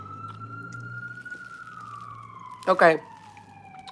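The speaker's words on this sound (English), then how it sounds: "let's wait for the sirens to pass by" A siren wails steadily at a distance, its pitch slowly sliding down as it passes, with a brief spoken word partway through.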